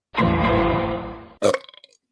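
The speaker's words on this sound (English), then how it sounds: "marks that one right there with a burp" One loud, drawn-out burp lasting over a second, close to the mic, then a short broken gurgle as it trails off.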